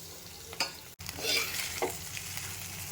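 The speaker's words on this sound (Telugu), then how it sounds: "ఇప్పుడు మనము ఈ అన్నం మొత్తము ఇందులో వేసి కలుపుకుందామండి." Cooked rice is stirred into raw mango pulihora in a pan, with soft scraping strokes and a light sizzle, plus a couple of faint utensil taps against the pan.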